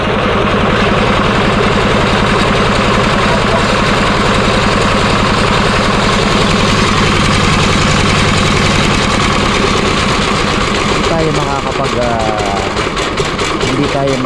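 A running engine beside an irrigation pump, its radiator hot, gives a loud, steady, close rumble with rapid knocking pulses that carries on throughout.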